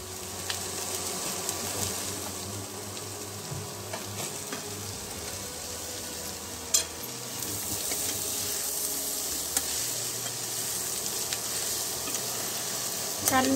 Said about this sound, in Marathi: भाजी थोडी अशी हलवून घ्यायची, म्हणजे खाली करपणार नाही किंवा खाली लागणार नाही।